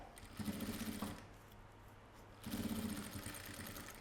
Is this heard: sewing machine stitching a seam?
yes